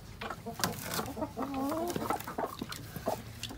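Several chickens cluck and murmur close by, with a short rising squawk in the middle, over soft farmyard background noise.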